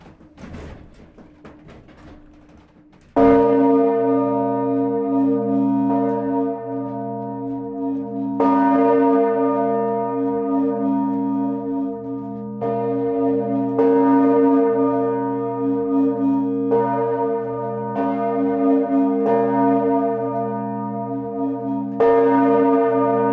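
Church bells of the Romont collegiate church in Switzerland, renovated and now ringing, burst in loud and close after a quiet start, with repeated strikes layering into a rich, sustained peal.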